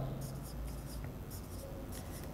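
Pen writing an answer on paper during a class four mathematics lesson, a faint, soft scratching that runs steadily under the room's quiet background.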